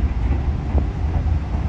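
Steady low rumble and rattling inside the economy-class carriage of the Jayabaya passenger train in Indonesia, with a continuous rolling drone and no talking.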